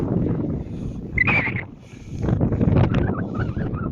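Wind gusts buffet the microphone in heavy, rumbling bursts on a Black Sea beach in icy winter wind, rising and falling throughout with a brief high whistle partway through.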